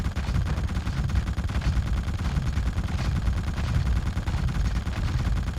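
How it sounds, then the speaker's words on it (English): Rapid, continuous gunfire from a gun in the horror video game The Suffering, a dense, loud, steady rattle of shots filling the whole stretch with no talk over it. "it does help if you actually shoot the gun"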